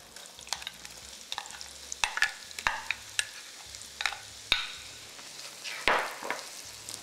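Onion frying in a pan of oil and butter while biryani is prepared, with steady soft sizzling under repeated sharp clinks and scrapes of a stirring utensil; no talking.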